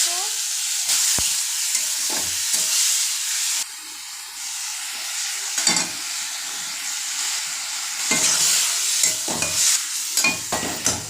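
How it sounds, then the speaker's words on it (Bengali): Tomatoes tossed into a hot pan over onions crackle and sizzle loudly and steadily, with clanks of a spoon stirring at intervals and no voices. "এখন বসাবো টমেটো"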